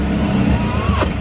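Car with an H22 engine running steadily after a vacuum leak repair, a low continuous engine drone close by with a brief rev swell near the end.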